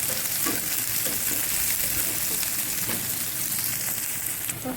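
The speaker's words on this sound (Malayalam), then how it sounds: "അത് നന്നായിട്ട് വഴറ്റി കൊടുക്കും." Onion, garlic and green chilies sauté in a pan with a steady close sizzle and occasional stirring scrapes, alone without voices.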